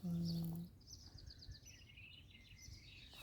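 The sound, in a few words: birds chirping in a vegetable garden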